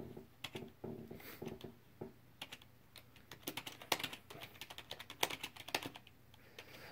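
Typing on a computer keyboard while filling in an Xbox problem report, with quick, irregular bursts of soft close clicks and short pauses between strokes, fairly quiet.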